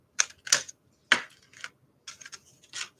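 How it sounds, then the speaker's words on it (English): Scissors snip straight across paper for a 3D paper sculpture, several short crisp cuts in separate bursts with brief pauses between, close and fairly quiet. "So I will just cut it straight across"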